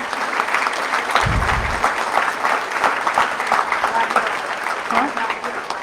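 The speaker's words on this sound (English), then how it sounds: "Please give Kristen a round of applause." Audience applause for a middle school award winner at a disability advocacy event at the state legislature, steady clapping throughout with a brief low thump near the start.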